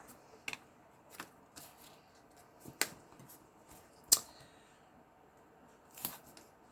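Tape being cut during album making for a waterfall page, heard as scattered short crisp snips and rips spaced a second or so apart, fairly quiet and close, with no talk.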